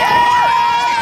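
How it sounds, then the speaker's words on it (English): Crowd of spectators cheering loudly at a primary school cross country finish line, a sustained roar of shouting voices with a commentator talking over it. "That's a loud cheer too."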